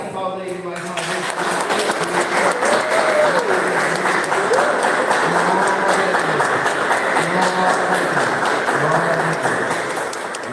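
A church congregation applauds during a communion service, sustained loud clapping that rises and holds across the clip while music and voices continue underneath.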